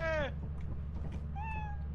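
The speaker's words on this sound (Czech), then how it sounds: "No, tak vidíš, tady je kočka." A cat in the video game Lethal Company meows twice, a sharp descending mew then a shorter, flatter one, over a steady low background hum.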